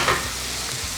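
Onions and chili gently cooking in a pan for a king prawn bhuna, a soft, close, continuous sizzle with a slight stirring scrape near the start.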